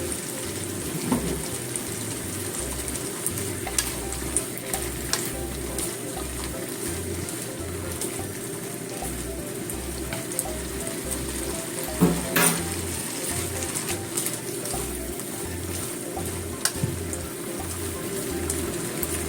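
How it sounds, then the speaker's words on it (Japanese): Sweet potato stems cooking in a pan with added water, seasoned with mirin, sake and sugar, give a steady close sizzle and bubbling simmer with occasional stirring clinks, with no talk. "ちょっと硬かったのでゆっくりに煮たいと思ってお水入れました。"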